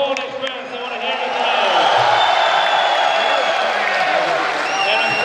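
Stadium crowd at a CS:GO world championship final between France and Poland, Polish fans roaring and cheering in a sustained loud wash of voices and whoops, building after a brief dip and holding steady.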